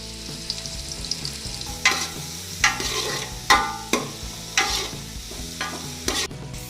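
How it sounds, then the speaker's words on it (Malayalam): Carrots and beans being sautéed in a pan: a steady sizzle with repeated scraping stirs every second or so, close and fairly loud, no voices. "നമ്മൾ ക്യാരറ്റ് ബീൻസ് ഇത് ഫ്രൈ ചെയ്തെടുക്കാൻ വേണ്ടി പോവുകയാണ്"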